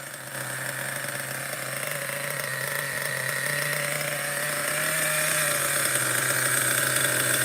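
A Schumacher XTR-3E nitro RC car engine idles steadily on a cold first run, a constant buzzing drone that holds even and fairly loud throughout with no voices.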